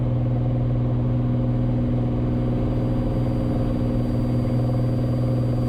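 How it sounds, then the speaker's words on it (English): A Cessna 182T piston engine roars at full power on the takeoff roll down runway 18 at Claremore, a loud steady drone with a constant propeller hum, heard alone inside the cabin. "taking off runway 18 Claremore"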